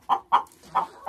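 Four short, sharp clucks from second-year laying hens near their nests, close and clear in a quick uneven rhythm, with no talk.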